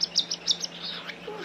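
Pet birds, including lovebirds and a cockatiel, give a quick series of about five bright, close chirps followed by softer twittering indoors.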